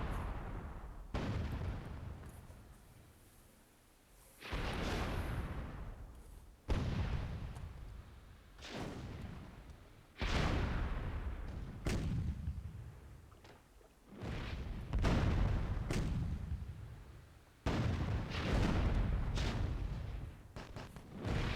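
Cannon shots in the video game Myth II Soulblighter, a string of heavy booming blasts, each with a sharp onset and long rumbling decay, repeating every few seconds and loud throughout.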